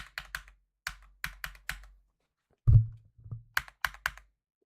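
Quiet computer keyboard typing in quick clusters of crisp clicks, with a heavier thump in the middle and pauses of silence between bursts.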